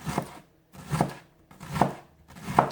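A knife slices through a shallot on a cutting board in four evenly spaced cuts, each a short crisp crunch ending in a thud, close and clear with no speech.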